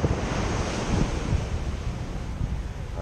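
Ocean surf rolls onto the beach at Nha Trang on a weekend afternoon, a steady broadband wash of waves with wind buffeting the microphone throughout, no voices.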